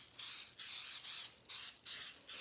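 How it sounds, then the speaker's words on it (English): Baker's Bake Easy baking spray hisses from an aerosol can into a Pyrex baking dish in a kitchen, five short close bursts separated by brief pauses. "we're gonna spray it with our Baker's Bake Easy"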